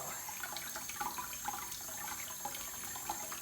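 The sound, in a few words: rinsing dough in a strainer under tap water to wash away starch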